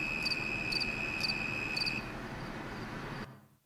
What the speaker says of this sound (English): This is a tree cricket.